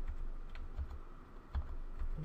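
Keys clacking on a computer keyboard while setting up Android in a virtual machine, a few distinct close presses including an enter keystroke, alone with no voices.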